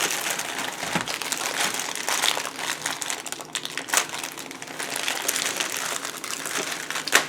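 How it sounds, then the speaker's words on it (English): Graham crackers being tipped into a Ziploc plastic bag, giving a steady close crinkling and rustling of plastic with small crunchy clatters throughout, no voices. "Put them in a Ziploc bag."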